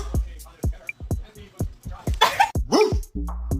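A dog barks close by in a quick series of sharp, loud barks about every half second, and a person's voice briefly joins partway through.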